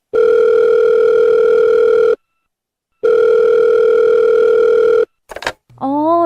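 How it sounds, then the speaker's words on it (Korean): Steady telephone dial tone on a phone line while placing a call, two long continuous stretches separated by a short silence, followed by brief dialing blips and a faint voice near the end. "전화를 한번 해봐야 되겠네."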